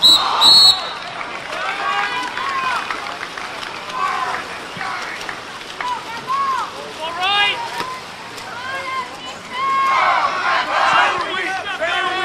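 A referee's whistle sounds at a boys water polo match between Los Altos and Menlo School in a pool. A short shrill blast comes near the start, under a commentator's continuous talk and a cheering crowd.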